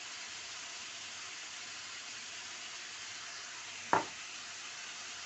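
A steady, even sizzle of chanterelle mushrooms frying in a pan, broken once by a sharp clack near the end.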